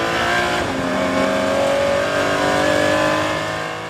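Porsche race cars at speed on the Lédenon circuit, caught from an onboard camera: a loud, continuous engine roar with steady high revs and shifting pitch throughout, no voices.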